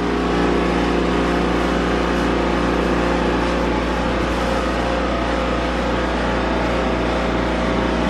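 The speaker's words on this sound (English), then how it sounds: "They have a humidifier going." A humidifier runs steadily indoors in an old house, giving a loud, constant droning hum with low tonal bands that stays even throughout, with no talk over it.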